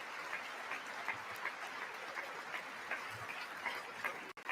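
Members of Congress clap during Trump's address to Congress, a steady, moderately loud wash of applause that holds evenly before cutting off abruptly near the end.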